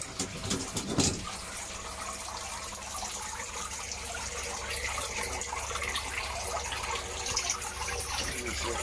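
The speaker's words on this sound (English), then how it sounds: "Let me turn the shower off." A household shower runs steadily, a dense continuous hiss of spraying water that carries on unchanged after a brief louder splash at the start.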